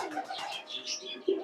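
Fancy pigeons, short-face and lacka types, cooing on a farm: a few soft, close coos and murmurs with light chirps, ending on a louder, fuller coo.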